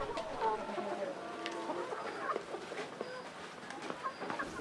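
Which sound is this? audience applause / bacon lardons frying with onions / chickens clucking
chickens clucking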